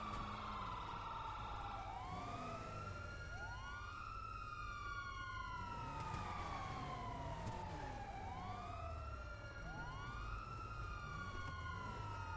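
A police car siren in GTA 5 Online wails in repeated rising and falling sweeps, a continuous, clear, moderately loud cycle that plays alone over a low background.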